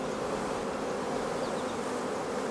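Honey bees buzz around their hives, a dense, steady, continuous drone from many insects close by, with no voices over it.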